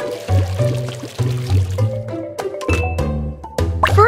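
A cartoonish pouring sound plays in a Baby Panda science game as water goes onto a squirting cucumber. It is a series of gurgling, bubbly plops and glugs, fairly loud, with short chimes mixed in and no speech.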